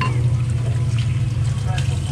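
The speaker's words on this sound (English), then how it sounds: "the brush I wash that under warm water" Warm tap water runs over a shaving brush being rinsed outdoors at a tent, a steady continuous stream with low rumbling flow that holds at an even level throughout.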